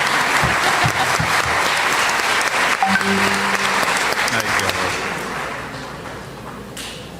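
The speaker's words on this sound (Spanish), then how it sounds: "vamos a recibir con un fuerte aplauso al padre John Sobrino" Audience applause welcoming Father Jon Sobrino at a university gathering, a steady roar of clapping that fades slightly toward the end, with a few voices and a short exclamation over it.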